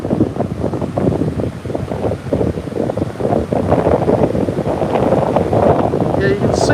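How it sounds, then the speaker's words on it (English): Strong wind buffets the microphone at a beach on a breezy day with a northeasterly wind, with surf and whitecapped waves rolling continuously underneath, loud and steady throughout. "so it is a very breezy day today"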